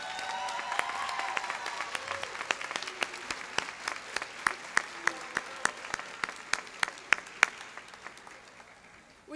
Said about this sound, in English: would you stand so our graduates can applaud you as we look at you?